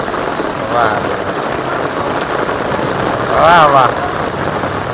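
Heavy monsoon rain pours onto a village street outside a shop in Gujarat, a steady, close roar while a man briefly calls out in excitement twice.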